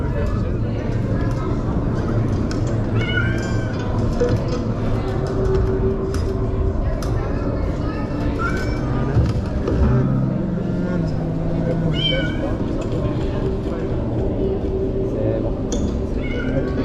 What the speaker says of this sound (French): Le chat est là-dedans normalement.